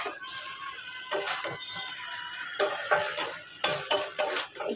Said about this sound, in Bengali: এই যে দিয়ে দিচ্ছি এক এক করে মাছ, দেখে নাও।